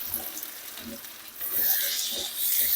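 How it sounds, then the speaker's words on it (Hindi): Mutton pieces frying in a pan with onion, garlic and ginger for mutton paya, giving a steady close hiss and crackle that grows louder in the second half, with no talk. "मैं प्याज लहसुन अदरक के साथ इसे भून लूंगी जब तक कि गोश्त का कलर चेंज ना हो जाए"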